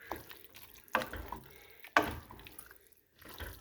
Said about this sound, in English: Give it a real thorough stir